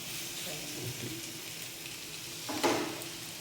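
Onion and garlic fry in a pan with a quiet, steady sizzle, broken late by a brief scrape of stirring, while a voice murmurs faintly in the background.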